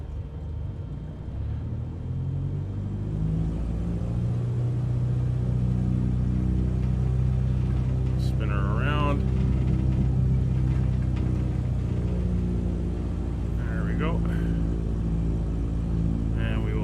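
Light aircraft engine warming up in a flight simulator, with a steady low droning hum that rises slightly and holds at a constant pitch, and faint tonal blips sounding briefly over it.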